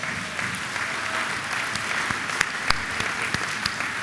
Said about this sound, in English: Can we give them a round of applause?